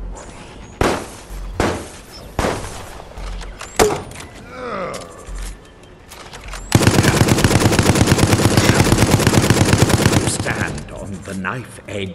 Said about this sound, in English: Guns! Barbaric, but effective nonetheless.